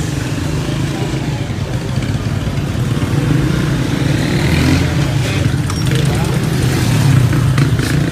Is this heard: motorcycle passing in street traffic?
yes